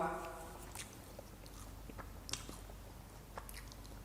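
Barbecue-flavoured dried fish snack strips are bitten and chewed close up: soft, irregular crunches and mouth sounds. A brief murmur of a voice opens the sequence.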